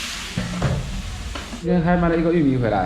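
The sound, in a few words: stir-frying food in a wok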